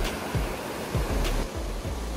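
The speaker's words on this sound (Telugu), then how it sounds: "వాటర్ఫాల్ సౌండ్స్ వింటుంటే అక్కడే చాలాసేపు ఉండాలనిపించింది" Fossli Falls near Port Alberni, Canada, pours down in a continuous, even hiss of falling water heard from nearby, broken by several soft low thumps of wind or handling on the microphone.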